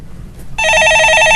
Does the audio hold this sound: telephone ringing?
yes